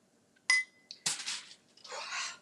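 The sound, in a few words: scooping stuffed breakfast peppers into a bowl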